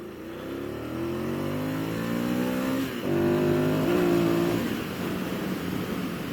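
A 2006 Ducati SuperSport 800 motorcycle engine climbs through a few quick rising revs, steady and close, then settles into a smooth, even drone.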